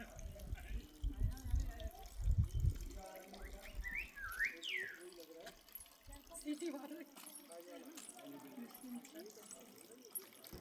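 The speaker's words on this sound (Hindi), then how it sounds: "ये बर्ड शायद थ्रश है और उसकी आवाज़ ऐसी होती है जैसे कि सीटी बजा रही होगी" A thrush near a waterfall in the Uttarakhand hills sings a few clear, whistle-like rising notes in a short burst midway, over rushing water and low rumbling, with some voice in the background.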